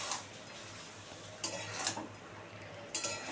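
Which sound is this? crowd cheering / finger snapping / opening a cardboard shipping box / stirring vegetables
stirring vegetables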